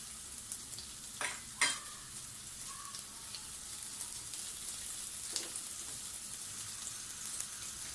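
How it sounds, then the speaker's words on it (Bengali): Finely chopped onion and grated carrot fry in oil over medium heat, a faint, even sizzle punctuated early by a couple of soft stirring knocks, close by and steady throughout. "তেলের মধ্যে 1/4 কাপ পেঁয়াজ কুচি দিব, আর দিব হাফ কাপ গ্রেট করা গাজর।"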